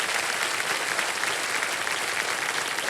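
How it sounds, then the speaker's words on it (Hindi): Studio audience applause on a Hindi quiz show set (KBC, Super Sandook round), a dense, steady wash of many hands clapping that holds at an even level throughout with no voices on top. "तालियां बज जाएं"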